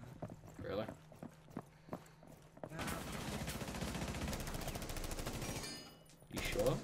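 Gunfire in Rainbow Six Siege: a few sharp single shots, then a dense rapid burst of about three seconds, then a short final volley, with voices talking in between.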